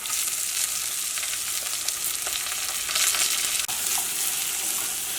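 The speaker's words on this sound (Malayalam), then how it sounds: "ഇതെല്ലാം കൂടിയിട്ട് നന്നായിട്ടൊന്ന് വഴറ്റിയിട്ട് എടുക്കുക." Finely chopped onions and green chillies sauté with spices, giving a steady close sizzle with light stirring scrapes and one sharp knock near the end. No one speaks.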